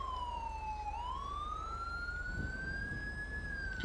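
Ambulance siren in GTA with the LSPDFR police mod, a loud electronic wail sweeping down then slowly rising again in a single continuous tone, over a low steady engine rumble.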